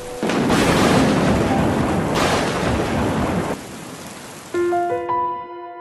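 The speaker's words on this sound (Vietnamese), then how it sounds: "Mưa mùa hè, có sấm chớp là chuyện bình thường con ạ." Heavy summer rain and loud rolling thunder in an animated film, a dense continuous roar with thunder crashes near the start and around two seconds, fading before a bright synthetic chime tone enters near the end.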